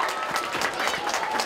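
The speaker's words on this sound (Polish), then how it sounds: "Duże brawa dla wszystkich!" Outdoor crowd at a charity community event in cold weather, applauding together in a dense, steady clatter of clapping throughout.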